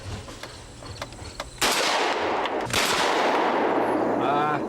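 A shotgun fires at a clay target during trap shooting outdoors. One loud, close blast cuts through a quiet background, and a second burst follows about a second later.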